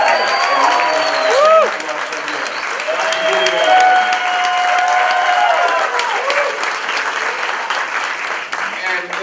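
An audience at a motivational talk breaks into loud, sustained applause with cheers and whoops rising over the clapping.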